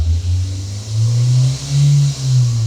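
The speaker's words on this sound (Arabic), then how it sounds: "صوت الموتور هيعلى جامد قوي" A manual car engine idles low, then revs up in a couple of surges and settles back, a deep steady rumble close by with no talking.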